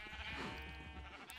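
A sheep bleats in a video game, one drawn-out wavering cry, moderately loud over a soft steady background, with no talking.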